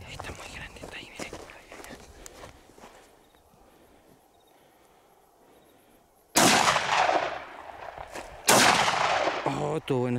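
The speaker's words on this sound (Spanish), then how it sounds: "Bueno, ese tiro, no sé si lo grabé." Shotgun fired while hunting rabbits at night near Cauquenes: two loud, close blasts ring out a couple of seconds apart after a stretch of quiet rustling and low voices.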